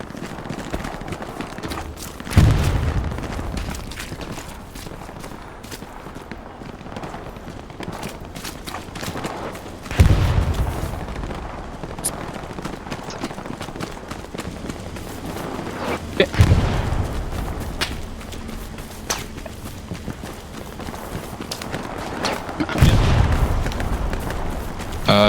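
Gunfire and explosions in the World War II shooter Hell Let Loose, a few heavy booms spaced several seconds apart over a rumbling battlefield backdrop.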